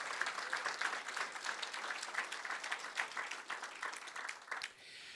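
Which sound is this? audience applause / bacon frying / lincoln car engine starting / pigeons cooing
audience applause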